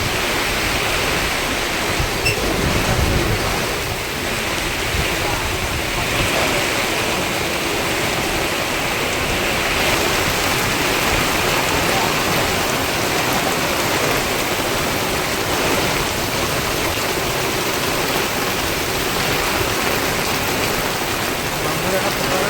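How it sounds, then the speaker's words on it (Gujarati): Continuous heavy rain hisses and patters on a highway over a steady broadband roar, loud and unbroken throughout, with no clear voices. "વરસાદ પડી રહ્યો છે"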